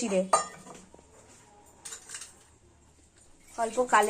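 Spices, a little sugar and black cumin are stirred into fish pieces for frying, producing close utensil clinks and scraping on a metal dish in short bursts, with a voice speaking at the start and end.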